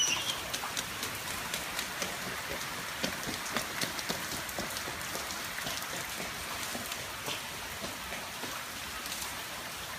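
Rain falls steadily in a backyard, with a constant hiss and many sharp close patters of drops hitting surfaces, and no voices.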